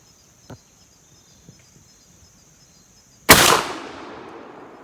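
A single 10 gauge shotgun blast firing 2.5 ounce loads of 00000 buckshot at a range: one sharp, loud report with a long decaying tail, preceded by faint clicks and an insect-like whine in the background.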